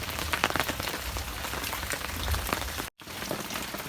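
Steady rain falls in a rural Thai village during rubber-collecting season, a dense, continuous patter on surfaces with no voices, holding even throughout apart from a brief dropout near the end.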